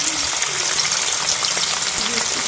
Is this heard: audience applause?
no